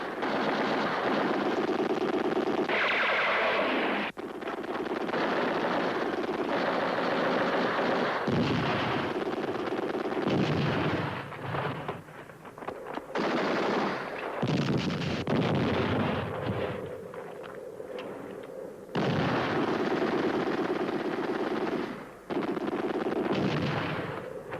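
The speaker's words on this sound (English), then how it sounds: "Lay down mortar fire." Heavy mortar and artillery-style barrages in a 1969 war film about the Battle of El Alamein, with loud sustained blasts and rumbling bursts that roll on almost continuously, breaking off briefly a few times.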